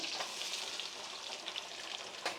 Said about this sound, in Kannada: ನೋಡಿ ಈರುಳ್ಳಿ ಫ್ರೈ ಆಗ್ತಾಯಿದೆ